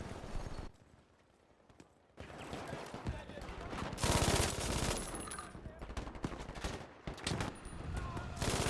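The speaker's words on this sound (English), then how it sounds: "The MG42 is really fun to use in this game." An MG42 machine gun fires in the Battlefield V video game: dense, rapid automatic bursts with a short lull early on, then sustained loud fire to the end.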